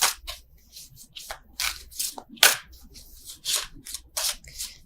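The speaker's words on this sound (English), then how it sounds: "I don't know why I'm still shuffling these." Tarot cards shuffled by hand in short, crisp riffling bursts, about a dozen quick papery flutters repeating at an irregular pace, close up and fairly quiet with no talking.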